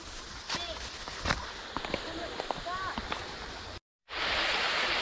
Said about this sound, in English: Let me give you a little view from the top of this waterfall.